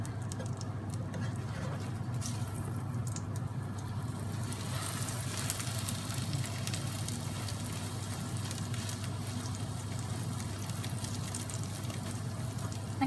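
A Thai-style omelette fries in hot oil in a pan, a continuous close crackling sizzle with fine popping that holds steady throughout.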